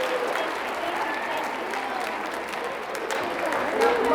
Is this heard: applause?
yes